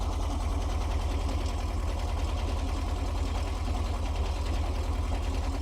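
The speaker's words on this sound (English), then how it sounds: "we're going to give this a rev" A bus engine nicknamed Papi runs steadily after carburetor work, a loud, close, even chugging drone with a regular pulsing beat and no clear rise in pitch, still slightly misfiring.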